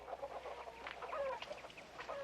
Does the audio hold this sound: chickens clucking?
yes